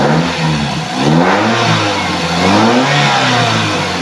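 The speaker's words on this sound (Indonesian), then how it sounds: "Kita coba geber." A 2002 Toyota Soluna GLi engine revved up and down twice in close range, the pitch rising and falling smoothly over a steady idle, with a slight ticking from valves needing adjustment.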